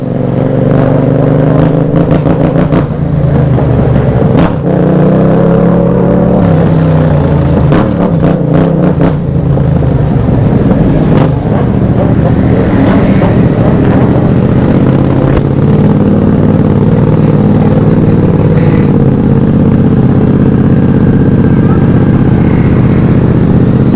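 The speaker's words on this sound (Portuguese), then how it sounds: "Dá atenção no barulho da MT, o bagulho tem tipo um barulho de helicóptero" A Yamaha MT-07 motorcycle engine runs loudly and steadily, its throbbing drone pulsing with a choppy, helicopter-like beat, with occasional sharp clicks and shifts in tone.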